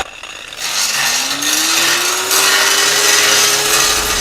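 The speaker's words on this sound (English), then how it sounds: "Then you get a grinder. You must follow the joint how it has been welded." An angle grinder runs steadily along a welded metal joint, loud and close, its harsh grinding roar holding throughout with a whine that slowly rises in pitch.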